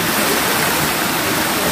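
Spring water pours from a spout on Mount Rajabasa in a steady, loud, close splashing rush with no voices over it.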